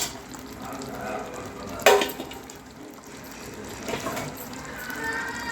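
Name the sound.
water added to cooking gravy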